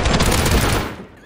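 Dense, loud automatic rifle fire in the survival game Rust during a raid on a sheet-metal base, a continuous rattling burst that fades toward the end.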